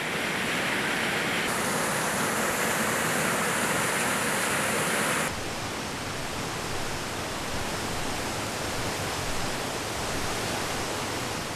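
A forest waterfall at Dingga, Indonesia, roars as a loud, steady wash of water that never lets up, its tone shifting slightly partway through, with no voices.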